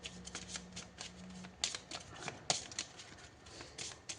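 Major arcana tarot cards being shuffled close by, a quick series of soft riffling flutters and light taps repeating through the whole stretch, with no talking.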